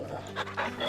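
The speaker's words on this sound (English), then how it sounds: "I got you, puppy. Fetch!" A puppy companion in the video game Final Fantasy XVI pants in quick, breathy huffs, close and fairly loud, in a short burst with no talking.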